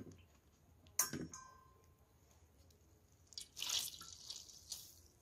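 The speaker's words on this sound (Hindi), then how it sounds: "अब इसमें ब्रेड को डिप करेंगे।" Bread is dipped into a small bowl of water and drips, giving two brief, close bursts of wet splashing and dripping against a quiet kitchen background.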